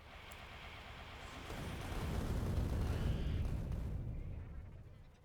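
A Spidertron in Factorio auto-targets and levels an enemy base: a low, rumbling roar of massed explosions swells after the first second, holds loud and dense, then fades toward the end.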